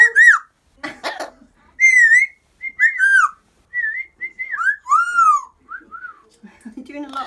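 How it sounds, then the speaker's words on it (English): An Amazon parrot indoors gives a string of short, loud, near whistles. Each is a rising or falling warble separated by brief pauses, with a few rough squawky notes mixed in. "You're doing a lot of whistling, aren't you?"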